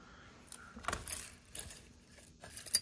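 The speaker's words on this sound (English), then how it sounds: "And there's keys." Keys from an estate sale jewelry box jangling close by, several metallic rattling bursts as they are handled, with no voices.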